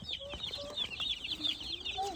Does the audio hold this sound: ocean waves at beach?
no